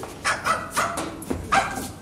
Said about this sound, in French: Ce n'est pas votre valise, c'est un petit chien.